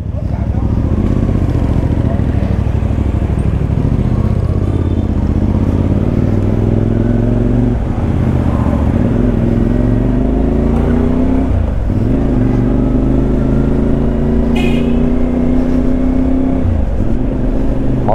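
A CFMoto 450MT with a 450cc engine drones loud and close while being ridden, its pitch rising and falling through gear changes over a steady road rumble, with a voice talking along the way.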